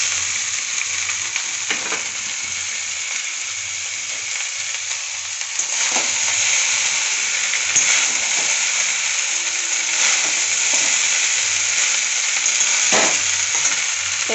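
Basmati rice frying and being stirred in a pan after curry leaves and green chillies, a steady loud sizzle with scraping stirs throughout, no voices.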